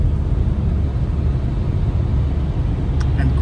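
Loud, steady road rumble heard from inside a car on a wintry road from Graz to Vienna, a dense low roar of traffic with one brief higher sound near the end.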